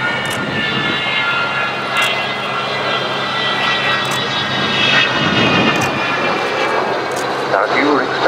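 An Avro Vulcan XH558 jet bomber rumbles past at an air show with a broad, steady roar, moderately loud and sustained, with brief clicks and faint voices around it.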